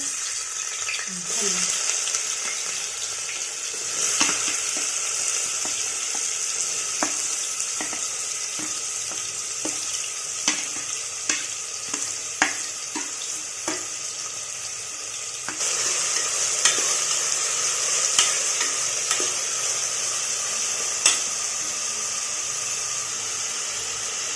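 Onion frying in hot oil for a rustic village-style spicy chicken curry, a steady bright sizzle with scattered crackles and pops, close and continuous throughout with no talk over it.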